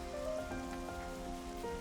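Rain falls softly in the video game Xenoblade Chronicles 3, a faint, steady patter mixed under a quiet tonal game background with no speech.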